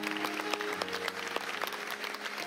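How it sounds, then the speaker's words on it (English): A church congregation claps hands together in a steady, lively burst, many hands at once with crisp individual slaps, and a sustained organ or keyboard tone holds underneath. "Give the Lord a powerful hand clap as we go back to our seat."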